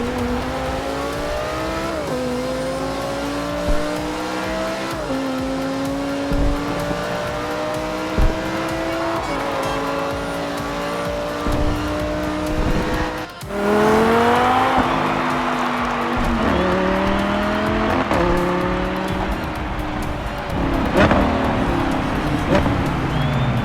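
Several cars race at the festival in Forza Horizon, their engines rising and falling as they shift and accelerate, with sharp pitch sweeps and a sudden whoosh midway. A loud, continuous roar fills the scene while a radio host talks over it.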